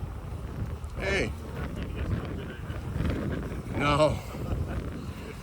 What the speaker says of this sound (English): And it's a bit windy too, right? All the grass.